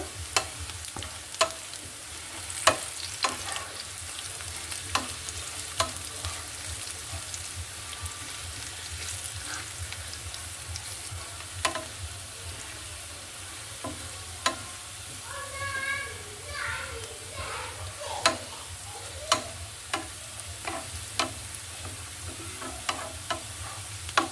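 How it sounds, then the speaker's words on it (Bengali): Whole cumin seeds fry in hot oil while being stirred, a steady crackling sizzle broken by sharp ladle taps and scrapes, with faint children's voices in the background. "জিরেটা দিয়ে দিলাম আস্ত জিরা একটু নেড়ে দিব"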